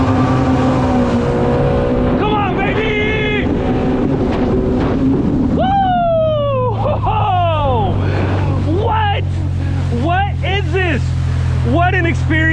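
Yamaha GP1800R jet ski accelerating hard from a standstill, its engine droning loud and steady under wind buffeting, with excited voices whooping and talking over it throughout.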